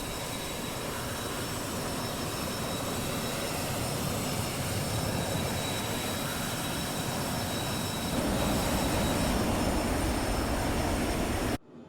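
Embraer Phenom 100 jet engines just after takeoff in MSFS 2024: a steady, full broadband roar with a faint high whine holds for about twelve seconds, swelling slightly near the end before cutting off abruptly, with no talking.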